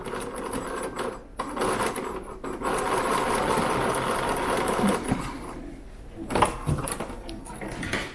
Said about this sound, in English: I'm opening up my bias, turning it back on itself, and I'm going to stitch it just a little bit, just a short little stitch.